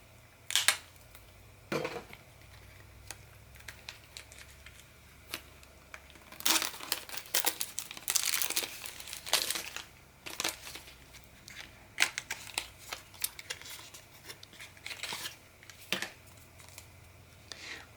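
Sticker packaging from a creative studio kit being torn open, crinkly plastic and paper rustling in repeated loud bursts, close by and with no talking.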